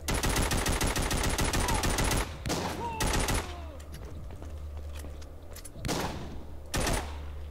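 Rapid automatic gunfire in the zombie shooter Walking Zombie 2, a dense loud burst of shots for about two seconds, then a few isolated shots and short bursts over a low rumble of game ambience.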